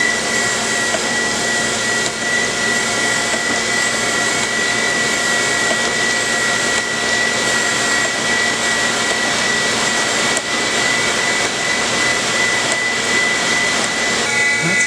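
A surface grinder grinding a metal part produces a steady, loud, unbroken whirring hiss with a faint high tonal whine, continuous for the whole stretch with no talking.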